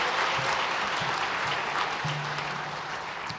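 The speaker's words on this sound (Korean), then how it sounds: "다 같이 큰 박수로 우리 아이들 격려하며 축하해 주시길 바랍니다" An audience in a church service claps to congratulate children receiving awards, steady sustained applause throughout at moderate distance, with a brief low murmur under it.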